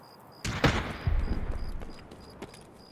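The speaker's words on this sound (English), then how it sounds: "Bunch of explosions going off." In a video game, a burst of sharp blasts and booms hits at once, followed by a rumbling spread of smaller cracks and a faint repeating beep in the background.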